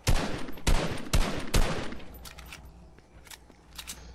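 Gunfire in the video game Fortnite: a quick volley of four or five loud, sharp shots in the first two seconds, followed by a trailing echo and faint, more distant shots.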